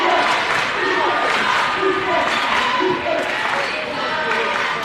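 Crowd noise at a boys high school district semifinal basketball game, Big Spring versus Eastern York, a constant roar of cheering spectators running throughout beneath a commentator talking.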